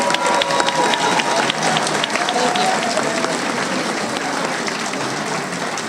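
Sustained audience applause for graduating seniors at a 2022 high school graduation ceremony, a dense, even wash of many hands clapping that holds steady for several seconds with slight crowd murmur underneath.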